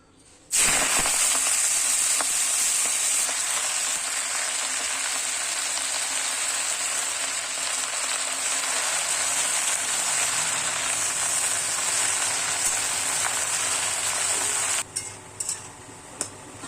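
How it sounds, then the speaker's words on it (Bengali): Malabar spinach leaves frying in a little oil in a wok, a loud, close, continuous sizzle that bursts in suddenly and holds steady before easing off near the end, with no voices. "এবার কড়াই অল্প তেল দিয়েছি এবার শাকটা হালকা ফ্রাই করে নেবো"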